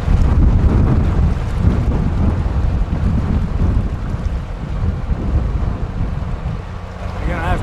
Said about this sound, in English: It is so windy here.